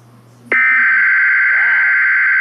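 An Emergency Alert System alert tone bursts in abruptly and holds as a loud, steady, piercing electronic drone. A brief voice sounds faintly beneath it.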